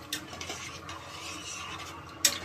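Steady scraping and swishing of a spoon stirring egg biryani rice in a pot, with a couple of sharp metallic clinks against the side.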